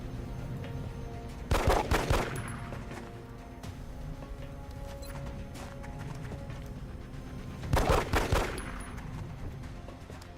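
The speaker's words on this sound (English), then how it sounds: "Can't use the plasma rifle or it's gonna kill him. So we just gotta try pistols." Two quick bursts of pistol fire in the strategy game XCOM, several seconds apart, over a low ambient game background hum.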